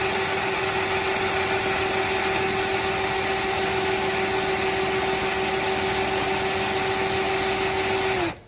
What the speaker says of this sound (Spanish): la broca va a ir metiéndose poco a poco